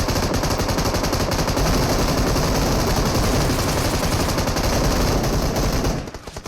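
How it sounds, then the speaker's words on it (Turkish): Dense, continuous automatic gunfire in the PUBG video game, loud and close, rattling without a break for about six seconds before cutting off abruptly. "Bize sıkıyorlar sıkıyorlar"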